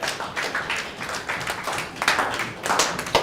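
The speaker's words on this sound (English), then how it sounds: "Let's give them a better clap" Audience clapping at a university event after presentations, a moderate, fairly quiet patter of many hands with uneven swells, no one speaking over it.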